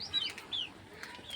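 Chickens give a few short, bright clucks and chirps at moderate distance, spaced irregularly over a quiet background.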